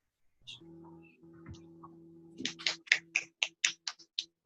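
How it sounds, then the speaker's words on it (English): One person clapping hands during a motivational talk: after a soft hum and a few faint taps, about ten crisp, close claps ring out in a steady, evenly spaced rhythm. "Oh, clapping."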